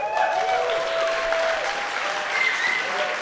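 An audience at the LibertyCon Europe conference keeps up sustained, dense clapping that stays even throughout, with a voice speaking over the applause.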